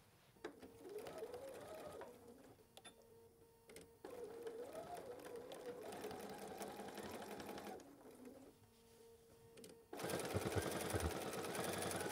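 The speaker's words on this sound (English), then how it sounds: "I'm going to sew a 1/4 inch seam, and I'm definitely going to back tack at the beginning and at the end" Sewing machine stitching a quarter-inch seam on a fabric holiday gift bag, whirring runs with brief pauses for back tacking, ending in a louder, faster burst; fairly quiet and close.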